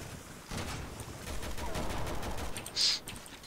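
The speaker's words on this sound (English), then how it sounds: "I already hate this assault rifle" Sustained burst of assault rifle fire in Resident Evil 6, a dense rattling stream of shots lasting a few seconds at close range, with a brief sharper accent near the end.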